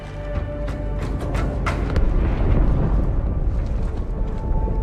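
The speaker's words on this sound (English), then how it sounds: "That explosion came from inside the Athens." The ship Athens explodes in a Halo 2 Anniversary video game cutscene, a deep, sustained rumbling blast with crackling debris that swells and stays loud throughout.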